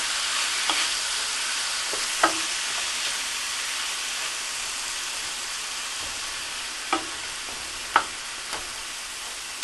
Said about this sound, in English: my meat's nicely browned, simmering up really well